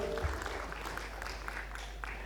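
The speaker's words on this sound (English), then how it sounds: "A big round of applause to Nitika." Audience applause at a panel session on food fortification, a steady wash of clapping from a crowd that carries through the whole stretch at moderate volume.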